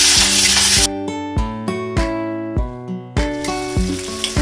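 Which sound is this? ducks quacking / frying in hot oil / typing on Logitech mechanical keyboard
frying in hot oil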